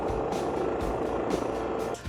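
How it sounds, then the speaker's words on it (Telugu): A rescue helicopter arrives amid the snowy peaks at Glacier 3000 in Switzerland, its loud rotor thudding in steady repeating pulses over a continuous engine roar. "అతని కోసం ఒక హెలికాప్టర్ వచ్చేసింది"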